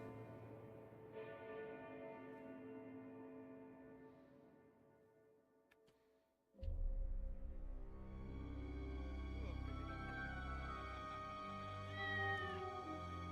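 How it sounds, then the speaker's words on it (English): A cat meows repeatedly in Indiana Jones and the Great Circle, with drawn-out cries over quiet ambient game sound, then louder background noise and a bright bell-like tone. "I hear a cat."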